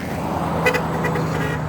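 A car horn toots briefly over a street traffic hum, a short double honk followed by a couple of fainter, more distant toots at Christmas time, with no talking.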